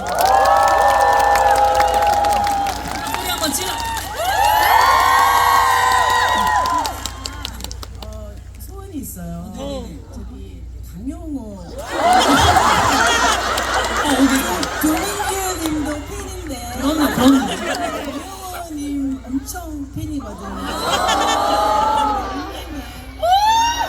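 A concert audience at a festival show cheers and applauds in rising waves, mixed with a host's amplified speech and crowd shouts in a large hall.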